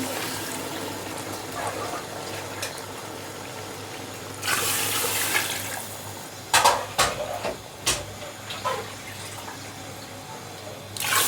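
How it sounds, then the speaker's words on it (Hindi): Water poured into a pot of masala potatoes in a home kitchen, a rushing splash that swells midway, followed by several short sharp clinks and knocks over a quiet background hum. "तो अब इसमें हम डालेंगे पानी।"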